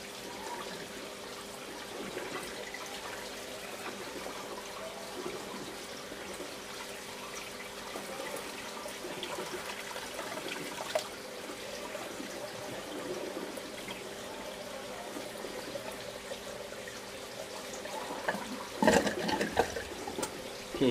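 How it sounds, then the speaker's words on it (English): An aquaponics siphon draining water from a grow bed, a steady rushing gurgle of flowing water that continues throughout, with a brief louder slurp near the end as the siphon breaks. "you can see the siphon is cutting off without problem at this water level"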